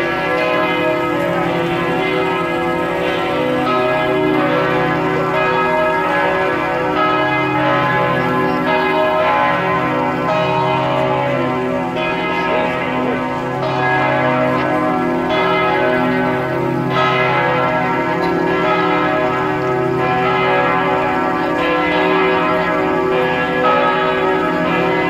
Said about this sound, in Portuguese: Batendo sino aí, ó. Agora é meio-dia.